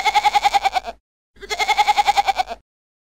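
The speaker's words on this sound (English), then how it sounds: "Goat." A goat gives two loud, close bleats, each a rapid wavering, pulsing cry about a second long, separated by a brief silence.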